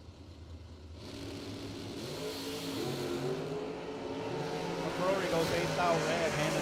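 A rear-engine dragster at a bracket drag race revs and launches, its engine note climbing steadily louder over several seconds while a commentator talks over the noise.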